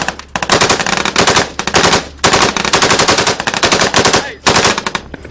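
Machine gun firing from a vehicle in Afghanistan, loud rapid bursts of automatic gunfire close by, in several long strings separated by brief pauses.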